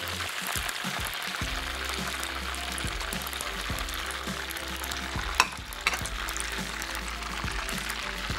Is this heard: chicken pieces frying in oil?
yes